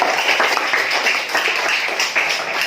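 A classroom full of people clapping steadily and loudly, close by, with no talking over it.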